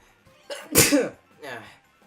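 A single sharp sneeze, a short intake then a loud explosive burst, followed by a softer breathy sound, close to the microphone during a casual Mario Kart 8 Deluxe gaming session.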